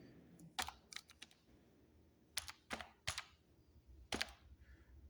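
Quiet computer keyboard typing while a spreadsheet formula is entered, several crisp key clicks in short bursts separated by pauses, close and clean against a faint background hiss.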